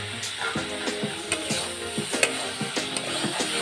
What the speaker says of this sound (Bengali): পটলটা দিয়ে এখন ভালো করে কষাতে হবে